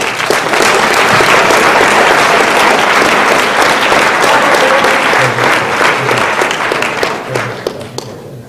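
An audience at a school fall sports awards ceremony applauds the athletes and coaches, a long sustained round of loud, dense clapping that tapers off toward the close.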